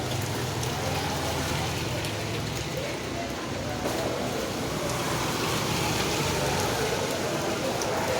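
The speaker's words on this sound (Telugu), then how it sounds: "వాన అయితే సూపర్గా పడుతుంది, ఫుల్గా." Heavy rain pours steadily in Chennai, a dense, loud, unbroken hiss of drops on surfaces that holds for the whole stretch.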